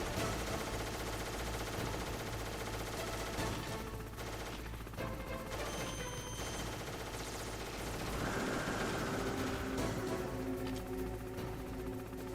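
Enemy gunfire in Metal Gear Solid, steady and continuous under layered game music and effects, with no clear separate shots standing out.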